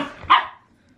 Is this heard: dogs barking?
yes